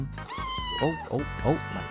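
A cat meows several times close by, drawn-out whiny cries, with a voice briefly audible at the start.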